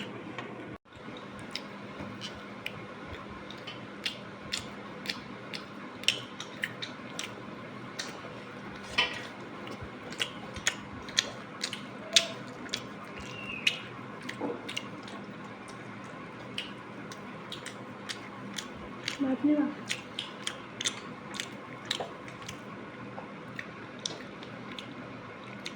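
Someone eats hilsa fish with pea dal fritters at close range: soft chewing, squishing and repeated small ticks of fingers or utensils on a plate, scattered and irregular over a quiet background.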